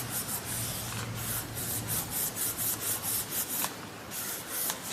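Paper on a mini album base is burnished with a tool, giving close, soft rubbing strokes in a steady back-and-forth rhythm that stop briefly near the end.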